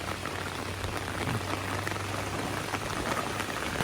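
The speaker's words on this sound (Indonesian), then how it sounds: "Ini makin lebat lagi hujannya sana-sana nih." Heavy rain pours steadily during a flood in a village in Pesisir Selatan, a dense, continuous close hiss of water drumming on surfaces with no pauses and no talk.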